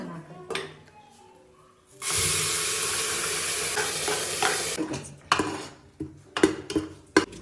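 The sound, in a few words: kasuri methi and onion frying in oil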